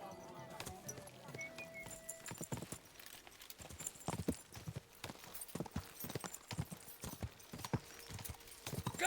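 Horse hooves clip-clop at a steady trotting rhythm throughout, in the video game Kingdom Come Deliverance 2, with faint game music and a voice speaking over the hoofbeats.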